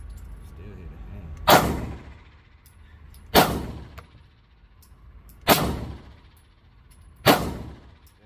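Four sharp pistol shots from a Hi-Point C9 fired at a target, evenly spaced about two seconds apart, each loud crack followed by a short decay over a quiet background.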